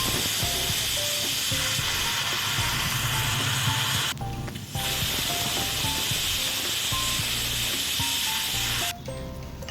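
A pressure cooker of green peas and carrots releases a loud, sustained hiss of steam that runs almost unbroken, dropping out briefly twice, with no talking over it.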